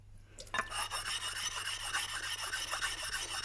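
A steel blade rubbed back and forth on a waterstone at a 45-degree angle makes a close, steady rasping scrape in quick regular strokes, starting after a brief pause.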